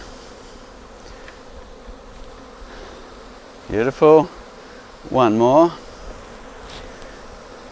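A swarm of bees buzzing around a hive box as a bee swarm is caught, a steady low hum running under two short bursts of close talk.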